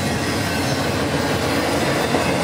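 A model train rumbles steadily along its track, a constant clattering whir with no pauses.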